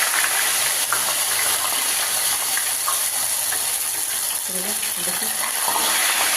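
Ghevar batter poured into hot oil, giving a steady, loud broadband sizzle and bubbling that holds throughout, with a brief spoken word over it.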